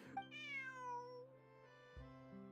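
A cat meowing in the Genshin Impact video game: one drawn-out, rising then falling meow, close and clear over a quiet steady game background tone, with no talk.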